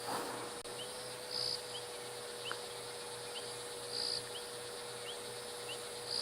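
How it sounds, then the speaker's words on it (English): Several different frogs calling at dusk in the African bush, a steady layered chorus of repeated pulsing and chirping calls, with a persistent high insect-like trill and occasional brief bird chirps over the background. "if you listen, you'll notice that I've got quite a few different frogs calling"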